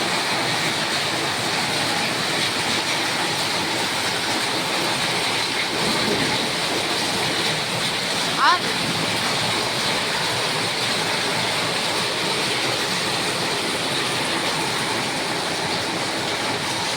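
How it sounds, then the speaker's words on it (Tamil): Heavy downpour during an unseasonal summer storm, a steady dense hiss of rain pouring continuously with no pauses, loud and even throughout with no talking. "செம்ம மழை பெய்யுது."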